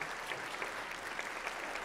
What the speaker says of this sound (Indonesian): menurut gua tepuk tangan dong buat yang konsisten semua